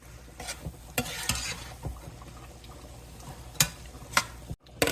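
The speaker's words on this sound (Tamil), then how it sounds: "இப்போ சாப்பாடு நல்லா மசாலா கலரியாச்சு." Rice being stirred with masala in a pot for fish biryani, with soft scraping and clinking of the spoon against the pan, a few sharper knocks standing out over a low sizzle.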